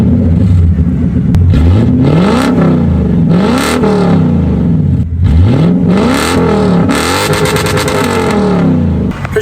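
A 1997 Lexus LS400 with all four mufflers cut off revs repeatedly up close, each loud throttle blip rising and falling in pitch in a rhythmic series of raw, throaty pulls.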